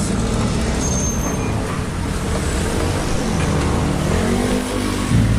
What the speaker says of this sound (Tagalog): ingay yung mga motor sa kalsada